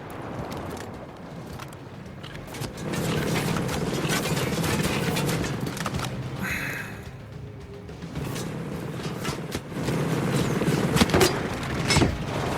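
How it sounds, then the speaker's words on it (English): Incoming mortar rounds in the video game Ghost Recon Breakpoint land as heavy booming thuds and rumbles amid clattering mechanical gunfire, building in intensity over several seconds. "Oh, no! Coming mortars."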